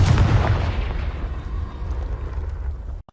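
A Confringo blasting spell goes off in Hogwarts Legacy, a loud booming explosion with a heavy low rumble that slowly decays over about three seconds, then cuts off abruptly.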